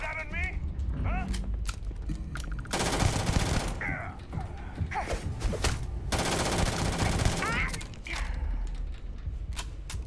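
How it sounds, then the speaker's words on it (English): Weapon fire in the Starfield video game, bursts of rapid gunshots and long sustained volleys mixed with mechanical clicks and game effects, loud and close throughout. "It feels really nice to fire weapons."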